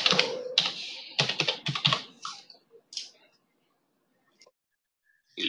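Someone types a password on a computer keyboard, a quick burst of clustered close key clicks that thins into a few scattered taps, then silence and one last click.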